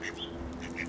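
Ducks quacking in short calls against a steady background hum, a few separate bursts within under a second, moderately faint with no talk.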